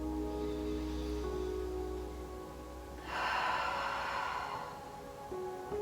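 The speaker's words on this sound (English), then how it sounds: "So just take a couple deep breaths." Slow deep breathing during a restful yin yoga pause, a soft steady exhale swelling midway then easing off, close and fairly quiet with no talk.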